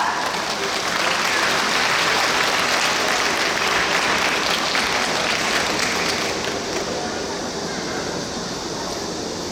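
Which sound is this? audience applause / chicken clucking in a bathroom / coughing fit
audience applause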